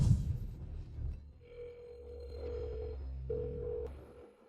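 A telephone tone on a call to a switched-off phone, a steady electronic tone that breaks off and then resumes after a short gap, moderately loud over a low background hum.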